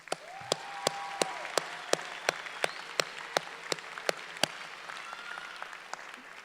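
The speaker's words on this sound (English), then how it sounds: "give yourselves a round of applause" Graduation audience applause at a Berkeley city ceremony: a soft, steady wash of clapping under a sharp, evenly spaced tick that sounds about three times a second, with faint tones drifting through.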